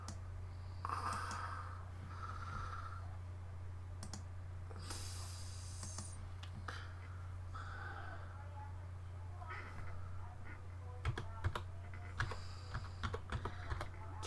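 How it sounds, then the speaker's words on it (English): Keys clatter on a computer keyboard in quick irregular bursts over a steady low hum, with soft breathing and occasional quiet speech in between. "I hate it when I type and I think I'm typing in the box where you gotta type and you're not."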